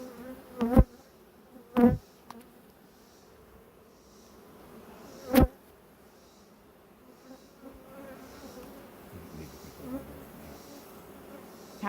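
Honey bees buzzing around a hive during beekeeping, a faint continuous hum broken by a few louder close passes of individual bees.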